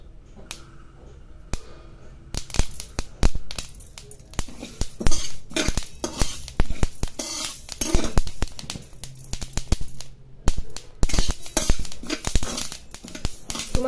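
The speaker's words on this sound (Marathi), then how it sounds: "थोडेसे उडायला लागले की आपले जवस भाजलेत असं समजायचं" Flax seeds roasting in a hot pan, popping in sharp irregular crackles and ticks that grow busier after a quiet start, with someone talking in between.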